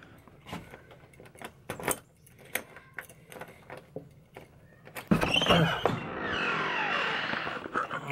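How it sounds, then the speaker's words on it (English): Keys jangle in short bright bursts at a campsite, several quick metallic shakes and clinks, followed by a louder rustle and scrape as something is opened nearby. "I have keys."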